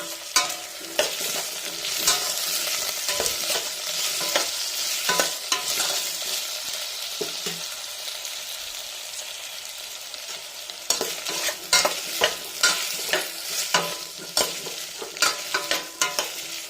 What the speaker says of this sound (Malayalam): ഇപ്പോഴേ നമ്മൾ എണ്ണയിലേക്ക് ഇട്ട ഉരുളക്കിഴങ്ങ് വഴന്ന് വന്നിട്ടുണ്ട്